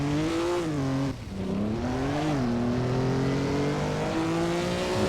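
Historic Formula 1 race car in a racing video game, its engine droning loud and steady with pitch dipping and rising through gear changes and throttle lifts, no talk over it.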